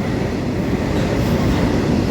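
A train rushes past at high speed at Paravur railway station, a loud, close, continuous roar and rumble of wheels on rails filling the whole moment without pause.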